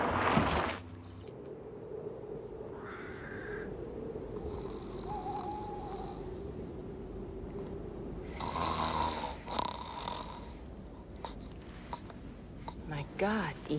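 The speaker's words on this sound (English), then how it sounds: "Your snoring could wake the dead." A man snores in a continuous low, rasping rumble that holds steady for most of the stretch, with faint background rustles and brief higher noises near the end.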